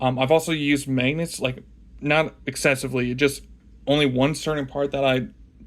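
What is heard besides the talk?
No everyday noises stand out.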